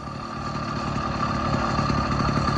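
An old Pexmore moped engine running at idle, a steady buzzing putter with a faint whine, close and even, gradually growing slightly louder.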